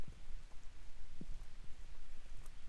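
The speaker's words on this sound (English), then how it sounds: "A little summer rain never hurt anybody." Light summer rain falling in a Brooklyn cemetery, soft patter of drops on surfaces with a few heavier close taps, steady and quiet throughout.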